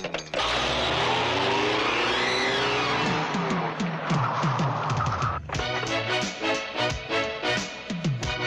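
A car driving off, with a loud revving engine and squealing tires at first, then choppier engine sounds as it pulls away.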